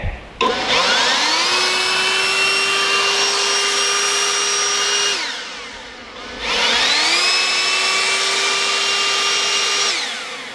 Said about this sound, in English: let me show you guys the blower really quick